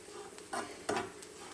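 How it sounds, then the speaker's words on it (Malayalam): Low, quiet sizzling of coconut and shallots roasting in a pan, with a couple of soft scraping stirs. "ചെറിയ ഉള്ളി ഇട്ടിട്ട് തേങ്ങ വറക്കാൻ വെച്ചു"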